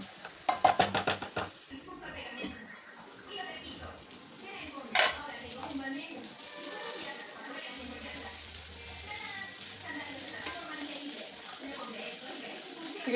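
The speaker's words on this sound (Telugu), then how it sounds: "మధ్య మధ్యలో తీసి ఇట్లా తిప్పుతూనే ఉండండి" Carrot fry stirred in a pan with a spoon, giving scraping and clinking of utensil against the pan and a soft sizzle, with a cluster of sharp taps near the start and one loud clink midway.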